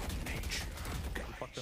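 Gunfire from a gun in the game Deadlock crackles as a brief, dense burst of rapid shots, fairly faint and mixed with voices talking.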